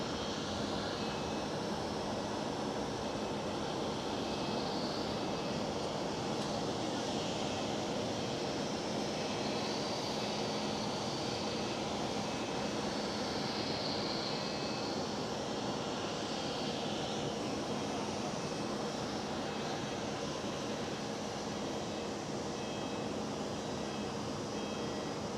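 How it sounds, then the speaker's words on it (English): A Cathay Pacific Boeing 747 at Amsterdam Schiphol sends out a long, continuous jet roar that stays steady and moderately distant throughout, with a faint whining tone drifting in the middle. "the next one up will be the Cathay Pacific 747"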